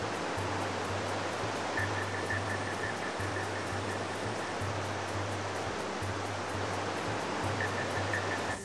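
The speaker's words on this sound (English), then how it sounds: "Waterfalls and curtains everywhere." Water pours down inside Mulu cave, a bat-roosted cavern, as a steady, dense rushing roar that fills the space without a break; no voices are heard.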